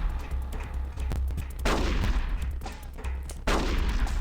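Gunfire from Metal Gear Solid: The Twin Snakes on GameCube rings out as a steady series of loud sharp shots and bursts over a low rumbling hum, with no talking.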